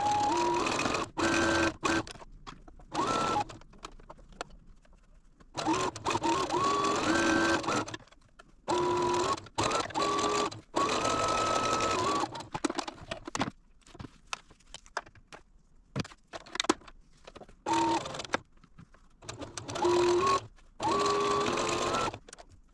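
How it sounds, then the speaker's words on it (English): A sewing machine stitches quarter-inch seams on a quilt block in repeated bursts of rapid mechanical whirring, broken by short pauses, close and fairly loud with no talking. "I'm going to sew these last two seams with 1/4 inch."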